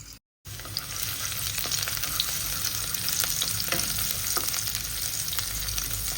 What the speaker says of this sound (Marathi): कांदा चांगला भाजू देईन मी पहिल्यांदा.